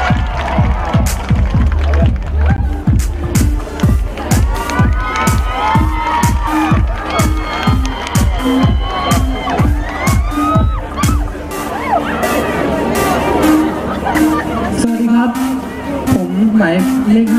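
Crowd cheering and whooping at a Mister Star male pageant in Nakhon Phanom, Thailand, with rhythmic clapping and shouts that rise and fall across the stretch, loud and close, with a brief musical sting near the end.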